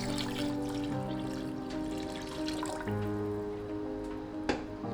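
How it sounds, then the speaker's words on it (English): Water runs steadily into a large pot of chicken bones, a continuous close filling and splashing sound with a slight drip near the end. "add it to a large pot, then fill with water until everything is submerged"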